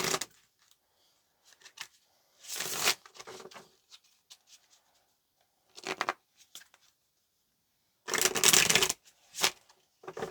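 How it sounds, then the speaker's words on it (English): A tarot card deck being shuffled in several separate bursts of riffling, crisp and close, with quiet pauses between the bursts and no one talking. "Let's go ahead and get just a couple of more shuffles."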